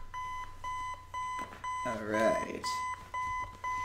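Six AM chime from Five Nights at Freddy's 4: a repeating bright electronic beep pattern in regular pulses, fairly quiet, with someone talking over the middle of it.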